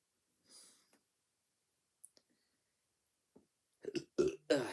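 A short throaty burp erupts near the end, loud and close after several seconds of near silence broken by faint small noises.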